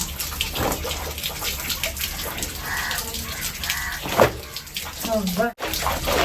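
Clothes being washed by hand in water at home, with a steady close sloshing and splashing that runs throughout while people talk over it.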